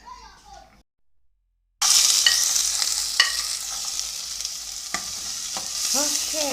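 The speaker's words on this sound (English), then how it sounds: "she's frying her onions first." Loud, steady sizzling of onions frying in hot oil for a samosa and spring roll filling, with occasional stirring scrapes and a voice briefly heard near the end.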